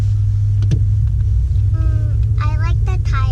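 A 2018 BMW M5 V8 idles with a steady deep rumble that runs loud and close through the whole stretch, while a voice talks briefly over it.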